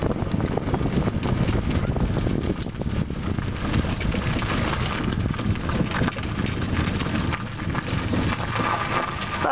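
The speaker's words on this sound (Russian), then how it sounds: "А тут дует" Wind blows hard across an outdoor microphone, a loud, steady, rumbling buffet that runs without a break for the whole stretch, with no voices over it.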